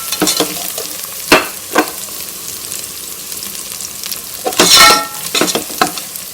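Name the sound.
spices sizzling and stirred in oil for tomato rice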